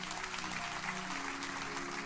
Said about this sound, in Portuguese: Então aplauda o Senhor Jesus.